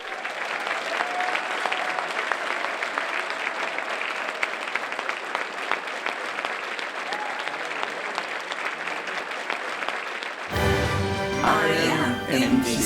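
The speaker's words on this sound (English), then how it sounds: "Let's give them a big round of applause." An auditorium audience applauds the 2011 alumni Hall of Fame inductees, a long, steady wash of clapping that carries on for about ten seconds before cutting abruptly into music.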